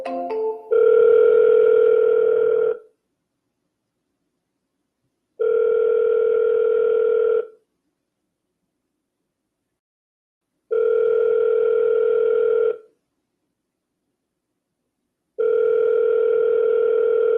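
A telephone ringback tone repeats four times in evenly spaced two-second bursts with silent gaps, clear and steady, heard while calling a backup number.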